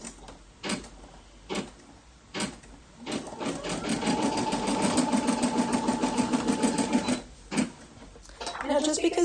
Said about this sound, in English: So now all that's left to do is to lower my presser foot and push go.